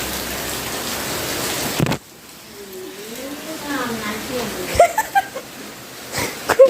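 Heavy rain blows onto a balcony as a loud, dense hiss for about two seconds, then cuts off abruptly. Talking and a few sharp knocks follow.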